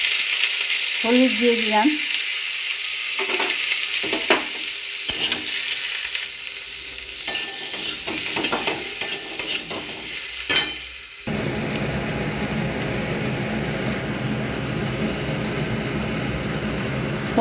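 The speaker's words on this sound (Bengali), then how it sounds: "আলুগুলো একটুখানি আমি সেদ্ধ করে নিয়েছি, খুব অল্প করে। এবার ভেজে নেব।" Parboiled potatoes fry and are stirred in hot oil for a bhuna aloo dum, with scraping stir strokes and bursts of sizzling; a voice speaks briefly, and near the end a steady loud frying hiss takes over.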